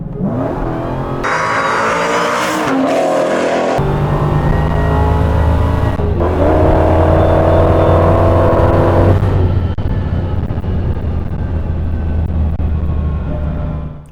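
An 1100 hp Dodge Demon on 16 pounds of boost and an Audi R8 roll-racing from 60 mph, with a loud, sustained engine roar that climbs and shifts through gears, close and continuous.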